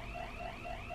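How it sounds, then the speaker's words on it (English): A car's door-open alarm sounds, a faint continuous electronic warble with rising, repeating pitch sweeps and nothing else over it. "That's my alarm. It keeps going off every time"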